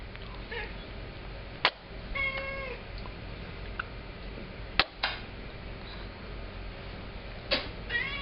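A pet cat named Lila meows several times in a kitchen at breakfast, short clear cries spread across the moment, heard over steady room noise with a few sharp clicks and knocks and no talking.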